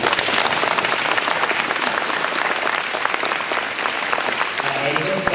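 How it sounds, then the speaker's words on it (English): Luncheon audience giving students a round of applause, dense sustained clapping filling the room, with a voice briefly emerging at the end. "Please give the students another round of applause."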